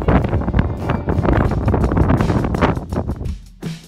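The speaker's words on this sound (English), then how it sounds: "It's very windy in the desert as winter winds down and spring blasts in." Strong late-winter desert wind near Julian and Santa Ysabel, California roars and buffets the microphone continuously, loud and gusty, easing briefly near the end.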